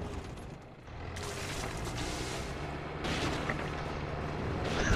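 Gunfire and booming blasts in the Far Cry 5 video game, a steady dense barrage of explosive shots rumbling on for several seconds at moderate loudness with no talk over it.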